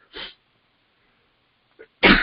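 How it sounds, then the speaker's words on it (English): A person sneezes up close, a brief catch of breath followed by a loud, sharp burst at the end, with a faint intake just before it. "I'm gonna sneeze, hold on one second."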